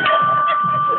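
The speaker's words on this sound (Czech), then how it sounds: "Někdo zvoní." A doorbell sounds at a house party, a sustained electronic ring holding one steady tone over indoor background noise.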